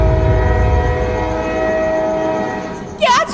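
A local train in a late-night horror audio drama rumbles steadily, then a sharp wavering horn blast sounds near the end.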